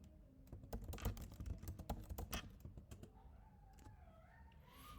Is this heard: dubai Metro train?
no